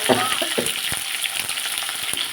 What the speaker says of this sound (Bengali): তারপর যে সবজিগুলো দিয়েছিলাম সেগুলো দিয়ে দিচ্ছি ঝিঙে কুমড়ো বরবটি আলু